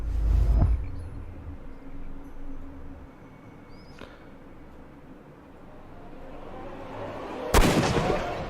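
Gunshots ring out in the video game Sherlock Holmes: Crimes & Punishments: a few sharp, separate reports spaced several seconds apart over quiet in-game ambience.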